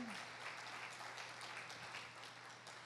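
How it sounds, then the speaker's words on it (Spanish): Congregation at a family church service claps for the Lord, a soft, distant, even wash of applause with a steady hum beneath. "¿No te provoca darle un aplauso fuerte al Señor por eso?"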